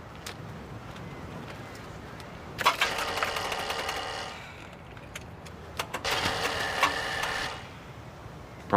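Motorbike engine starting and briefly running in two rough, buzzing bursts over a faint background hum, at moderate distance.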